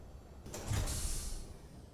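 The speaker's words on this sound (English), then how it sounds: "I want to close this door" A sliding door closing in the Space Engineers video game, a single smooth mechanical whoosh with a soft thud, heard alone over a low background hum.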